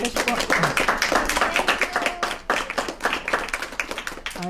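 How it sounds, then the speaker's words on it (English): A gathered group claps in a round of applause whose individual claps come through distinctly, close and lively, with voices mixed in among them. "Could we give a really nice big round of applause?"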